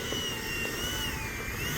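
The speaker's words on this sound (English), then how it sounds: "FMS Rafale 80mm EDF. I'm going to be taking this thing up in the air and just doing a couple of maneuvers with it" An FMS Rafale 80mm EDF radio-controlled jet with 3D-printed thrust tubes flies overhead, its ducted fan giving a steady, loud whine and rush that shifts slightly in pitch.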